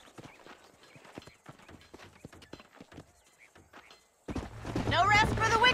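Horse hooves clip-clop in an open-world western video game, a steady patter of footfalls with occasional thuds, ending in a louder burst of speech over the gameplay.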